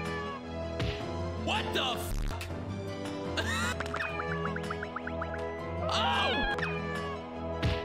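A cat in a Wii video game meows repeatedly over busy game music and effects, with a person exclaiming over the noise.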